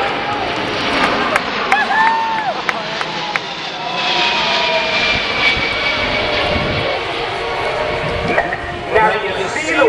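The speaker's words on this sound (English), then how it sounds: "representing your United States Air Force, the Boeing C-17 Globemaster III" Boeing C-17 Globemaster III transport jet engines roar at an air show, a broad steady rumble and whine filling the whole stretch, with crowd chatter and scattered voices mixed underneath.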